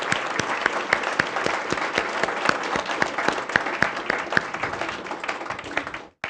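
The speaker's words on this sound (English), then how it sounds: "I'd really like to give a big round of applause to all the applicants" An audience applauds the applicants at an award event for a pitch challenge, with steady, even clapping from a crowd that runs for several seconds before stopping abruptly.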